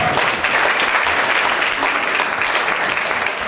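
A congregation at a worship night applauding to acclaim the Lord, a dense, continuous roar of many hands clapping that stays loud and steady throughout, with no clear speech.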